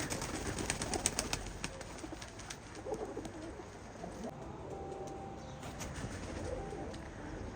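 A pouter pigeon coos quietly and repeatedly, its soft low calls rising and falling alone with faint clicks and rustles, and no voices.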